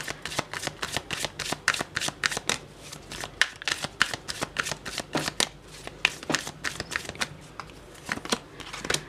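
Tarot cards being shuffled by hand in a rapid, steady run of crisp riffling flaps and clicks, close and fairly quiet, with no talking.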